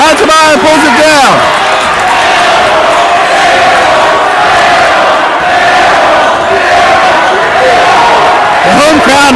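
A loud home crowd at a high school basketball game roars and chants in a packed gym. The din is dense and constant throughout, with a commentator talking over it at the start and end.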